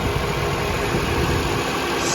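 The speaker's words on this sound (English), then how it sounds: "I noticed I left the vehicle sitting long enough that the engine did kick on." Engine of a Toyota RAV4 Hybrid XSE AWD running at idle after kicking out of EV mode, heard under the open hood as a steady, continuous hum with a broad hiss and no talk.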